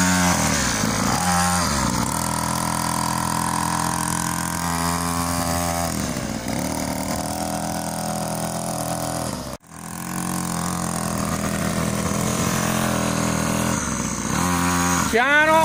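A child's mini cross motorcycle engine revs loudly and steadily nearby, its buzzing whine rising and falling with the throttle and dropping out briefly once, while an adult voice cheers over it.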